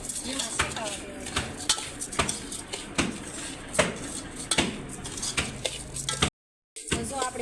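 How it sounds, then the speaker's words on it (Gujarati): Broken wheat (fada) roasting in a pan over a low flame, stirred with a metal spoon that scrapes and clinks against the pan in frequent irregular taps, close and steady, with a brief silent gap near the end. "તો આને આપણે ઘડીક વાર શેકાવા દેવાની. ધીમો ગેસ રાખી અને ધીમા શેકાવા દેવાની."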